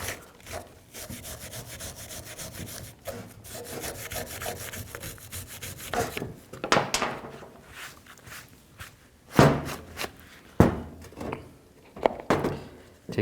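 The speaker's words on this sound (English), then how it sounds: "Take a wire brush, clean any of the rust buildup right here." A wire brush scrubs rust off a front brake caliper bracket on a 2006-2010 Mercury Mountaineer, making close, gritty back-and-forth scraping strokes in an uneven rhythm with a few sharper knocks.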